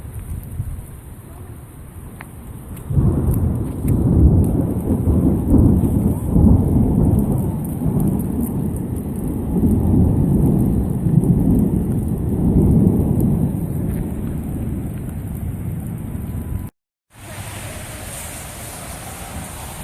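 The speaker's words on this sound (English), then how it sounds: "Well, I hope we get another storm like that." Thunderstorm with heavy rain: steady loud downpour and rumbling thunder swelling over several seconds, then a brief dropout before the rain hiss returns, close and enveloping.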